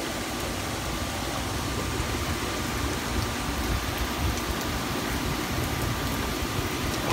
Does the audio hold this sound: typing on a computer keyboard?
no